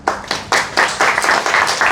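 Audience clapping after a poem at a poetry reading session, a burst of close, steady applause from a small crowd with distinct individual claps building and continuing at an even pace.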